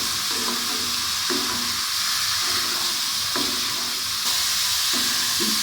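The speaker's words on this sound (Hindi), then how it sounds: "आप उस वक्त तक इसको फ्राई करें जब तक ये लाइट सा पिंक हो जाए।" Okra fries in a pan for Punjabi-style bhindi with a constant bright sizzle, broken by a few faint clicks and scrapes of stirring, close and unvoiced.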